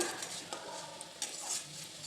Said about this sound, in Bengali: টমেটো বাটাটাও দিয়ে দিয়েছি, ভালো করে কষতে থাকবো।